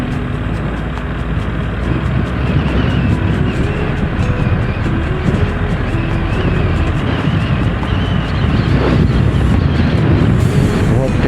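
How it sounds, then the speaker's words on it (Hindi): Steady wind buffets the microphone with a loud, low rumble, mixed with the drone of a moving motorcycle on a bypass road in Indore. "हवा चल रही है, आपको भी सुनाई दे रही होगी"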